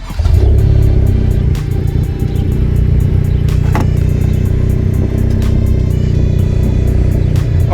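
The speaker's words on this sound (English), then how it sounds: "Start your car and we're gonna test your light." A car engine idles and runs steadily, a loud, close, continuous rumble with a slight lift in revs near the start.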